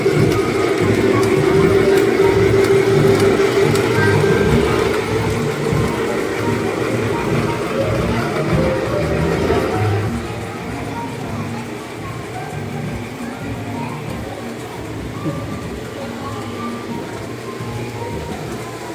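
Model trains run through a fire station's holiday train garden, a steady rumbling clatter with a sustained tone early on, heard amid crowd noise and people talking nearby.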